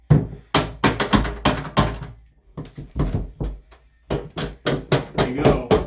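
Hammer tapping a door hinge pin while fixing a rubbing door: a series of sharp, loud metallic knocks in quick bursts, roughly a dozen strikes with a short pause midway, close up and alone.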